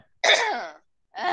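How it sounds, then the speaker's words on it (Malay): A teacher coughs twice during an online maths class, with a rough, throaty first burst and a shorter second one beginning, both close and loud against silence. "Cikgu duk batuk lah ni"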